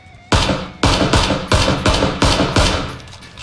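Rapid bursts of gunfire from the battle royale game PUBG, about seven loud sharp shots or short volleys spaced roughly half a second apart, close and punchy with no talk over them.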